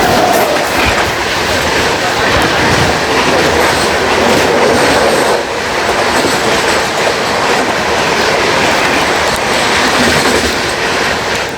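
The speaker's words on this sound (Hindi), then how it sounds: "ये सामने से आ रही है संघमित्रा सुपरफास्ट एक्सप्रेस।" The Sanghamitra Superfast Express rushes past at close range, its loud, steady roar of wheels and clattering carriages filling the whole stretch with rhythmic clickety-clack.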